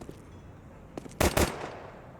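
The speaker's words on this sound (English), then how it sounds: "Dumao's just dancing, firing off shots." A short burst of Counter-Strike 2 gunfire on the Overpass map during a competitive match, a few quick, sharp shots clustered together over a low background hum.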